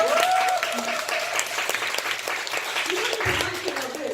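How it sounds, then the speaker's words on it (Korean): Audience clapping at a business seminar, dense and sustained, with a voice talking over it and a tonal sweep at the start and end, the crowd noise staying fairly loud throughout. "박수 한번 주시고."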